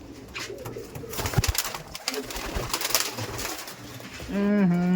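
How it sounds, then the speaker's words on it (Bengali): Madrasi tournament-quality pigeons at a seller's loft coo in a low rumble that builds steadily louder toward the end, over an uneven background of rustling and handling noise. "প্রচুর অ্যাগ্রেসিভ পায়রা না, ওই জন্য উপরে চলে গেল।"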